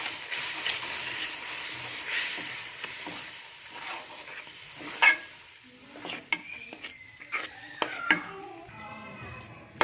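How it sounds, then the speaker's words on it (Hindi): Milk is stirred into besan halwa in a pan over low heat, with a soft sizzle and hiss under the scrape of a spoon, then a series of clatters and knocks against the pan. "ये देखें दूध को हमने अच्छी तरह मिक्स कर लिया।"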